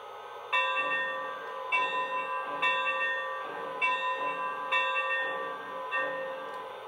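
A bright bell on a Lionel Legacy Frisco 4-8-4 Northern model steam locomotive rings in steady, evenly spaced strokes, about six clangs over several seconds, each ringing on with a sustained metallic tone.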